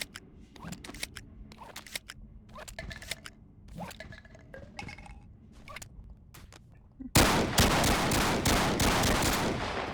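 A semi-automatic shotgun in the VR game BONELAB fires a series of sharp, close blasts over several seconds. A sudden loud, continuous rushing roar then takes over and runs to the end.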